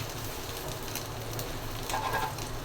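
An egg frying in a pan for breakfast, a steady soft sizzle and crackle of hot oil that is faint and continuous, with a slightly louder burst of spitting near the end.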